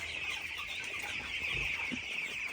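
Chickens cluck softly nearby in a short burst, a couple of low clucks over a constant background hiss.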